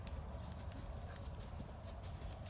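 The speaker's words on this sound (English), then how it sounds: "it was a very clear transition to canter" A horse cantering in a riding lesson, with a steady rhythmic drum of hoofbeats heard continuously at moderate distance and no speech.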